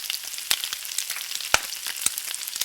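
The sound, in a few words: oil sizzling in a frying pan for a fried egg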